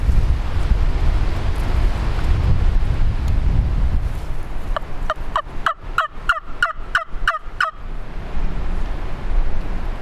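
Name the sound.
wind blowing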